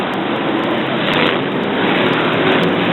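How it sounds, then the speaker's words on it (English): Powerful BriSCA F1 stock car engine at Brafield, 1983, revving hard while the tyres spin, a loud, steady broadband roar that swells slightly and holds throughout, no voices. "Far too much accelerator there, and that powerful engine just spinning the tyres into smoke"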